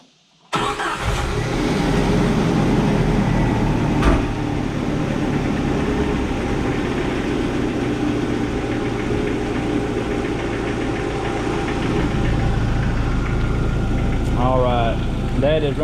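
A Jeep Wrangler TJ engine starts after an injector replacement, then settles into a steady, loud idle that runs without a break, with a faint voice briefly heard near the end.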